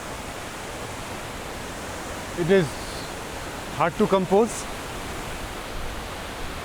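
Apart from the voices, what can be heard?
tallest waterfall cascade in Meghalaya, heard from a bridge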